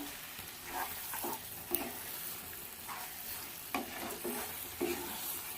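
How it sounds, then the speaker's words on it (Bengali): Mutton being sautéed with ground spice paste in a pan, heard as a steady, soft sizzle broken by several short scraping stirs, close and fairly quiet, with no voices. "সব কিছু দিয়ে ভালো করে একটু কষিয়ে নিচ্ছি"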